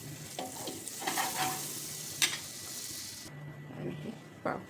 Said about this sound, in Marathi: तर आता तवा ठेवला, आपल्याला बटर टाकायचं